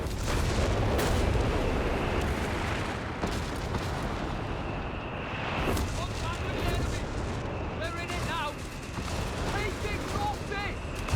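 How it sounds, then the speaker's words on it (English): Bishop self-propelled guns fire in a Company of Heroes 3 battle, heavy booming artillery blasts rolling through a dense, continuous wash of battlefield noise with scattered gunfire, while a commentator talks over it. "Rate of fire looking pretty good on those bishops, huh?"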